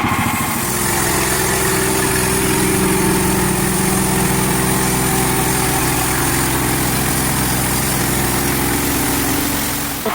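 A sawmill saw skims a log to square it into a cant, with a loud, continuous engine drone and cutting whine that runs steadily throughout without pause.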